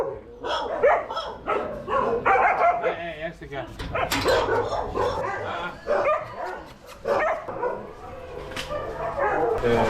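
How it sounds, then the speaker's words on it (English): Many dogs at a stray-dog shelter in Chonburi, Thailand, some of them disabled and using wheelchairs, bark, yip and whimper continuously nearby, while people talk over the din. "We have about 34 dogs in wheelchairs"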